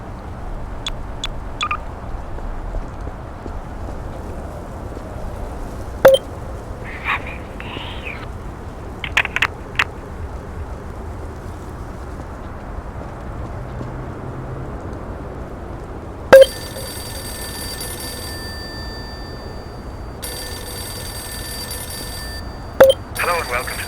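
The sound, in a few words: telephone ringing sound effect from the video game Garry's Mod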